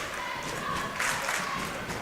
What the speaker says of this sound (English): a lot of crowd involvement here in the Den tonight